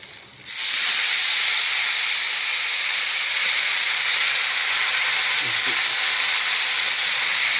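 Mint, tamarind and other ingredients sauté in a hot pan. A loud, steady hiss of sizzling oil starts abruptly and runs on unbroken.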